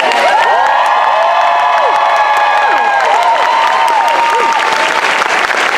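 Loud crowd cheering and clapping at a late live show in New York, with whoops and shouted voices riding over continuous applause throughout.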